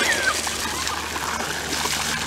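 Water splashes and trickles steadily for a couple of seconds, a broad close pouring hiss with no talk.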